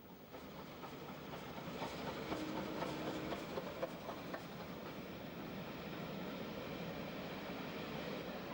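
A steam locomotive named Bodmin arrives at a station in Kent, heard as a fairly distant, steady rumble of wheels and rolling carriages with faint rhythmic clicks over the rails, no voices.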